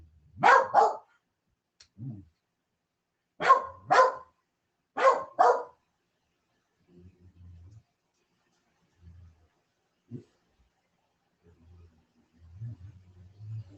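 A dog barks in short bursts indoors, three loud double-barks early on, then fainter yips and low grumbling sounds trailing off.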